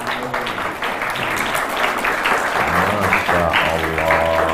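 An audience at an Islamic sermon by a preacher applauds, with dense, steady clapping throughout and a voice speaking over the final seconds.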